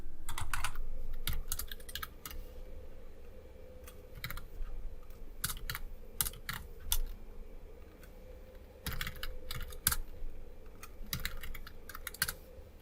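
Quiet, close computer keyboard typing in irregular bursts of rapid clicks with short pauses, someone entering a print method while writing Flutter code, with no talking.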